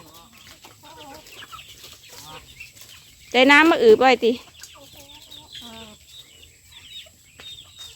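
Chickens at a rural Thai homestead around dusk give one loud, close burst of clucking lasting about a second, with softer scattered bird calls and faint talk before and after.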